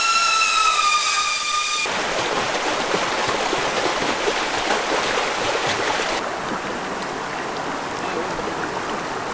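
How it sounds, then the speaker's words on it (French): A small river stream flows steadily in the Luberon countryside, a dense broadband rush of water close by that continues unbroken throughout, with no voices. "on est allé voir la petite rivière"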